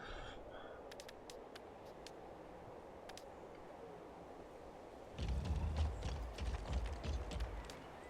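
Faint rhythmic hoofbeats of galloping horses in the video game King's Bounty 2, growing louder and closer partway through, with light clicks over a steady background rumble.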